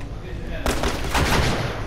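A shotgun blast in The Last of Us Part II: a sudden loud broadband burst partway through, followed by a dense rumbling tail of combat noise, with game background sound before it.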